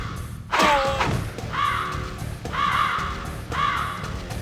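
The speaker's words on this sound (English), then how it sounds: "the crow yells at you" A crow in The Crow City of Angels video game caws loudly four times in a row, harsh rasping calls spaced about a second apart over a low game backdrop.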